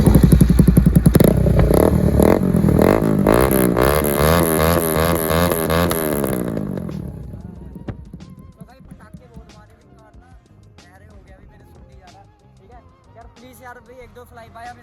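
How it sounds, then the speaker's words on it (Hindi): A Bajaj NS200 motorcycle with a full-system SC Project exhaust runs loud and close, its deep engine note rising and falling through revs before dropping to a lumpy, crackling idle. "तो मैं भाई बाइक को कर रहा हूँ स्टार्ट।"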